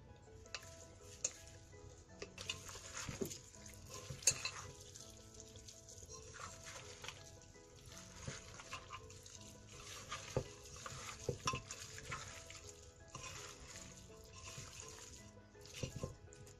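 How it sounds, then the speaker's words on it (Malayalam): Raw beef being rubbed and mixed by hand with spices for a beef curry, giving quiet, close, wet squelching and rustling with scattered soft taps and scrapes. "ഇതിപ്പോൾ ഞാൻ കൈക്കൊണ്ട് നല്ലോണം തിരുമ്മി വെച്ചിട്ടുണ്ട്."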